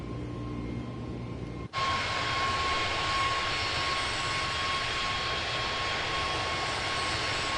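Jet airliner engines at high thrust in the video game Microsoft Flight Simulator 2024 jump abruptly from a quieter hum to a steady, loud roar with a thin whine on top, continuing alone without talk.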